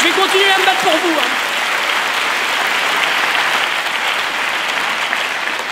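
Loud, sustained applause fills a comedy show venue, with a voice briefly heard over the opening second before the clapping continues alone as a thick, even roar of many hands.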